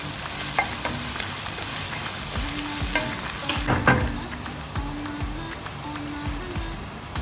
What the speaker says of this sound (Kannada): ಚೆನ್ನಾಗಿ ಫ್ರೈ ಮಾಡ್ಕೊಳ್ಳೋಣ. ನಾನು ಈರುಳ್ಳಿ ಸ್ವಲ್ಪ ಕಂದು ಬಣ್ಣಕ್ಕೆ ಬರಲಿ.